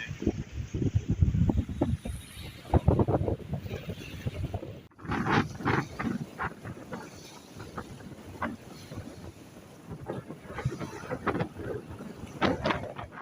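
Strong wind blows by the sea, rushing and buffeting the microphone with gusty surges, mixed with water and boat-like sounds and scattered clattering knocks.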